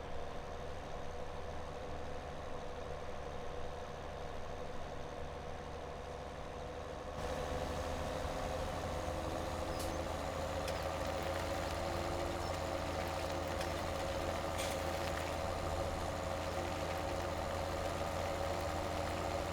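A tractor in Farming Simulator 17 pulling a large trailer that is almost too big for it, its engine a steady low drone that grows louder and rougher partway through, continuous with no talk.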